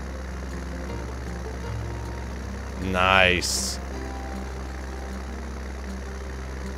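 A 143 horsepower tractor engine in Farming Simulator 19 drones steadily at low pitch throughout, while someone speaks briefly over it and a short rising, whining sweep passes midway.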